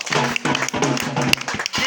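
A church congregation claps for Jesus during a healing service: brisk, rhythmic clapping that is close and loud, laid over a steady droning tone, with one especially sharp clap near the end and no speech.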